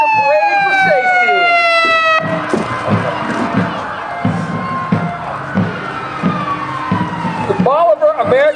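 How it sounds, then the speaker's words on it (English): Police car siren wailing in steady sweeping tones as the car leads a small-town Christmas parade, loud and close at first, then fading under crowd noise and cheering, with a voice talking throughout. "While the police car, Michael Graham driving, leading the parade"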